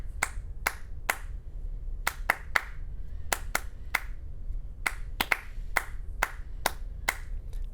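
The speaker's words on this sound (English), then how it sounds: "Okay, so I'm going to clap it again." Single hand claps in a paced, uneven rhythm tapping out the national anthem, each clap sharp and close, with quiet gaps between groups of beats and nothing else around them.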